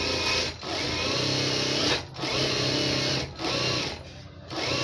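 A sewing machine stitches a lining blouse in loud, close bursts of rapid mechanical whirring, pausing briefly between runs and restarting several times, with no voices.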